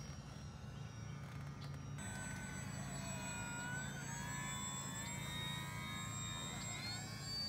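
A Tundra Maiden small airplane flies over Mille Lacs Lake, heard as a faint, distant engine drone with a slowly shifting pitch over steady outdoor background noise.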